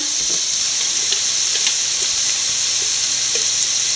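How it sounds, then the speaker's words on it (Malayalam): Spices are sautéed in a pan for Kuttanad-style duck roast, giving a loud, dense, continuous frying hiss with light scraping ticks scattered through it. "അത് ആദ്യം ഒന്ന് വഴറ്റാം"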